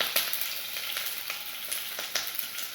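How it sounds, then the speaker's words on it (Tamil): Shallots and a dried red chilli fry in oil for beetroot poriyal, giving a steady, close sizzle broken by sharp crackles and pops, with no one talking. "எல்லாத்தையும் போட்டு நல்லா வதக்கிக்கலாம்."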